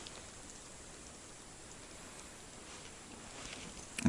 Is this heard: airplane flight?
no